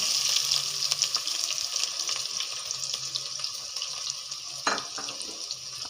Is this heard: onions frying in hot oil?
yes